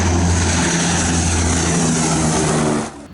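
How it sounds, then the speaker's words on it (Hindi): Military fighter aircraft flying over the mountainous Uttarakhand stretch of the India-China border, a loud, steady engine roar that holds continuously before cutting off abruptly near the end. "लड़ाकू विमानों ने उत्तराखंड से लगी चीन सीमा पर उड़ान भरी।"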